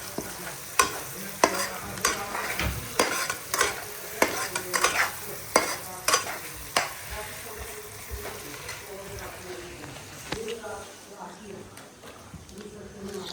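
A spoon stirs dal with Kashmiri chili powder and haldi in a pan, giving repeated sharp scraping knocks in an uneven rhythm over a soft sizzle, close by, with the strokes slowing and fading in the last few seconds.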